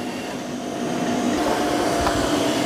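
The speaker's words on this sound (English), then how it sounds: "here's the eufy with its vacuum running and it's spinning the mop pads" A eufy X10 Pro robot vacuum runs with a steady whirring hum and a broad airy roar while its mop pads spin, growing slightly louder partway through.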